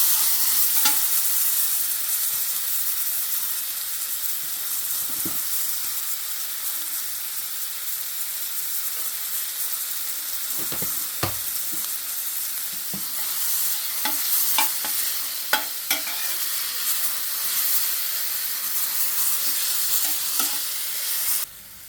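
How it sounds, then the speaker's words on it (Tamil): Onions and tomatoes with salt sautéing in a pan for an Ooty butter beans masala: a steady close sizzle with intermittent clinks and scrapes of stirring throughout, no voices. "இந்த தக்காளி வதங்கிறதுக்கு கொஞ்சம் உப்பு போட்டுக்கிறோம்."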